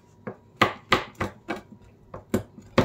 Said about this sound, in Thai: หั่นออกมาในลักษณะอย่างนี้นะคะเพื่อนเดี๋ยวนี้ก็จะหั่นไปเรื่อยๆจนเสร็จนะคะ